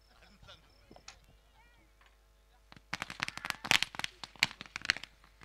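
Firecrackers crackle at an outdoor ceremony honouring someone at a Palasai 11 versus Shree Vira 11 cricket match in Beed, a rapid burst of sharp bangs arriving after a quieter stretch with background voices.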